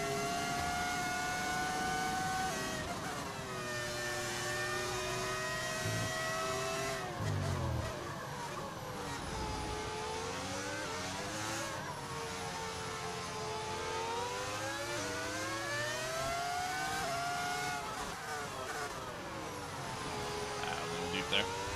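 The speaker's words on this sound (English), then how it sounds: "Yeah, it's a V10 audio mod." A 2005-era Formula 1 car's V10 engine in the F1 25 racing game, steadily loud and high-pitched with rising and falling revs through gear changes, running continuously throughout.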